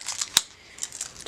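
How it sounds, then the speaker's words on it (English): A single sharp snip of scissors cutting through a scrapbook paper pad, close and crisp, surrounded by faint papery rustling and handling. "I need to cut this paper pad so I can show it."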